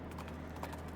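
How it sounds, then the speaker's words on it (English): A horse's hooves clip-clopping to a stop in the game West of Loathing, a quick run of light, close hoofbeats over a low steady hum. "You pull on your reins, stopping your horse."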